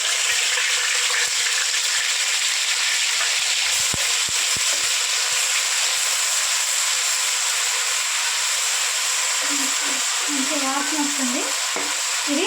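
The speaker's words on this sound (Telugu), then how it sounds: "ఇప్పుడు మనం ఉల్లిపాయ పేస్ట్ వేసేస్తున్నాము" Onion paste and spices fry in hot ghee for an Andhra-style pulao, giving a loud, continuous close sizzle with occasional stirring scrapes and no talking.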